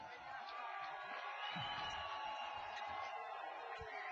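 A club crowd roars in the small hours, a dense wall of cheering and whoops with some clapping, sustained and distant-sounding, with voices shouting through it.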